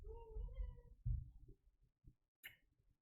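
A house cat meows in a short harmonic call near the start, close and moderately loud, followed by a few soft scattered noises and a brief high hiss.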